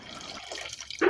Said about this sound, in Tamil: மட்டனை வேக வச்ச தண்ணியை ஆட் பண்ணிக்கலாம்.